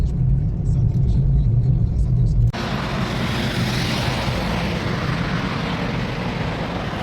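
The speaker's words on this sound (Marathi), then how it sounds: "मी 60-70 स्पीडने चालवतोय गाडी" A car cruises on a road at about 60–70 km/h near Bhor and Wai. Its engine and tyres give a steady, close rumble that shifts tone partway through, and the sound stays continuous throughout.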